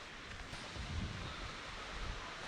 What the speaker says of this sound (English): I can hear the sound of river flowing